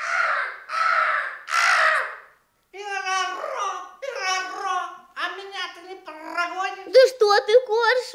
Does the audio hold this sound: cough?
no